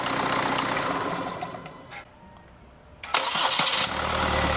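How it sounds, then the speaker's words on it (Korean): Kia Carnival minivan engine turned over by its starter motor, a brief whirring crank burst that catches and settles into a steady idle, heard close up after a quieter running stretch. "자, 이런 식으로 시동이 걸리는 거야."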